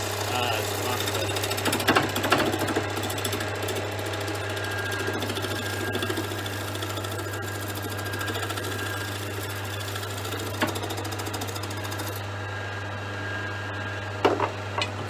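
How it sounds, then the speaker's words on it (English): A bench grinding wheel sharpens a wood turning tool, giving a loud, steady motor drone with a continuous gritty grinding hiss and a few brief louder scrapes. "put rested that against the grinding wheel to give it a sharp edge"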